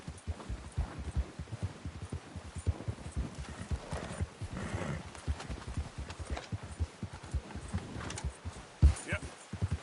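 A horse gallops in Red Dead Redemption, its hooves beating out a fast, steady clip-clop rhythm at close range, with a low throbbing underneath.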